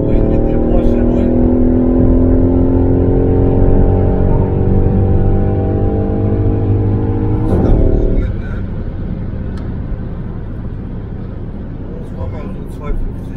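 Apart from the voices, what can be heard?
car driving on road with a Porsche trying to overtake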